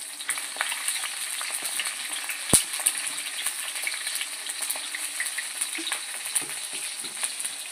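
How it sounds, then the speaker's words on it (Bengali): Eggplant pieces frying in oil for a Bengali hilsa curry sizzle steadily and close up, with scattered crackles and one sharp clink of a utensil against the pan, no voices present. "বেগুনগুলো একটু লাল করে ভেজে নেব।"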